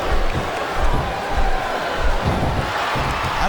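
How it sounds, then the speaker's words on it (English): Arena crowd noise in the WWE SmackDown vs Raw 2007 wrestling game, a steady roar of cheering throughout a submission match between Mick Foley and Torrie Wilson, with thuds and faint commentary beneath. "This capacity crowd is making their opinions known tonight."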